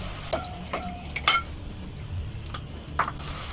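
Okra (bhindi) is sautéed in a pan for masala bhindi, with a soft sizzle under a few sharp clinks and scrapes of a spoon stirring against the metal.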